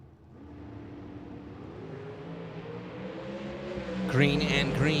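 Drag racing cars launch at a Las Vegas strip, engines climbing in pitch as they rev, then a sharp louder burst near the end, with an announcer talking over the noise.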